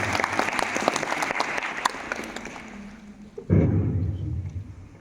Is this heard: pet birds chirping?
no